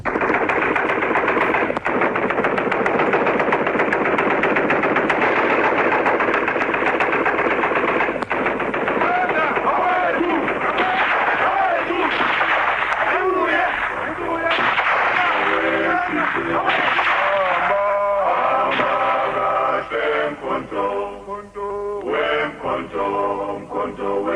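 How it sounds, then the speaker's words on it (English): Opening of a Radio Freedom broadcast for Umkhonto weSizwe: loud, sustained bursts of machine-gun fire rattle continuously, then give way to chanted group singing toward the end, all with a hissy shortwave-radio quality. "this is basically the opening sounds of gunshots and also singing for Mkonto Wesizwa MK"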